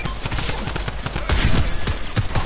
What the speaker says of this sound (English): Oh, shots fired on me